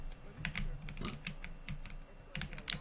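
Eli tapping at a computer terminal in the video game Half-Life 2, a run of quick light keystrokes in short bursts with pauses between, fairly close and clear over a low hum, no voices.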